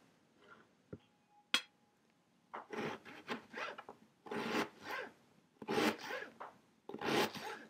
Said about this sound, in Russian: Теперь мы берем луковицу и режем ее полукольцами.